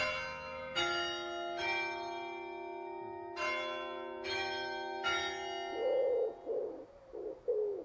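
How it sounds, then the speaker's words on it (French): Belfry church bells at Bruay-La-Buissière town hall strike several times at an unhurried pace, each ring lingering, and pigeons coo softly near the end. "comme le célèbrent chaque quart d'heure les cloches du beffroi."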